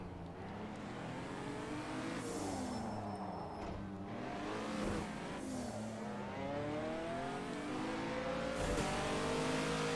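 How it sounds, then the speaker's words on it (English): Acura NSX engine in the racing game Project Cars 2, a steady loud drone rising and falling through repeated revs and gear changes, running continuously with no talk. "Now this is the Acura NSX."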